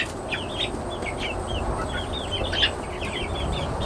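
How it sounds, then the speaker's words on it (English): Roosters and chickens in a backyard garden, with repeated clucks and calls at moderate distance over a steady outdoor background hum, no talking. "That's one of our roosters, and then that's the other one."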